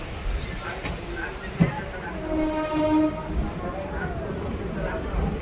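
A Bidar–Kalaburagi DEMU express train pulls out of Bidar station, its diesel engine droning and rising in pitch with a sharp clank early on, while someone talks over the steady rumble.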